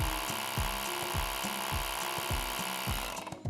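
A Hoto Pocket Air Pump runs while inflating a bike tire, giving a loud steady mechanical whir with a rapid repeating pulse. The motor winds down at the end.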